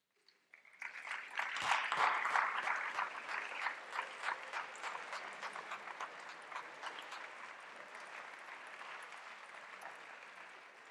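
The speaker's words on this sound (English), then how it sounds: "please stand up now and receive applause." Applause from a school audience honoring standing parents at a high school graduation countdown event, starting abruptly, swelling quickly, then settling into a long sustained patter of many hands that slowly thins and fades.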